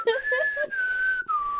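A person attempting to whistle a tune: a thin, wavering whistled tone that starts with short, uneven notes, then holds a longer sliding pitch broken by a brief breath.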